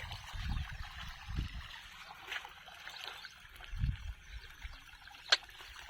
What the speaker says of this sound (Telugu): వర్షం అంటే వర్షమే బాబా, పెద్ద భారీ వర్షం పాసరేక